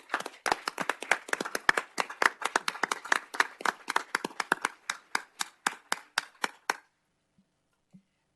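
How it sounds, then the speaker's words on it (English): A small group at a city council meeting claps for the firefighter union, distinct close hand claps in a quick, slightly uneven rhythm for about seven seconds before stopping into near silence. "So we do want to give a great round of applause for this event for the Firefighter Union."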